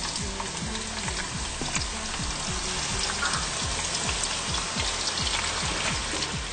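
Onions fry in a pan for Somali cooking with a dense, crackling sizzle close up, while a utensil stirs and scrapes in a quick, regular rhythm throughout.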